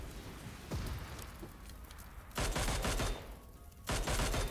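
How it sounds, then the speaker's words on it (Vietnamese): A six-barrel minigun fires in PUBG Mobile. Three separate bursts of dense, rapid gunfire roar in close, each cutting off sharply, with quieter game ambience in the gaps between them. "Một thằng sấy cái súng 6 nòng cái kia."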